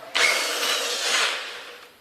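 A drill fitted with a 10 mm bit, hammer action off, enlarges a hole in a concrete wall. It makes a steady, close whirring grind for about two seconds that fades slightly at the end.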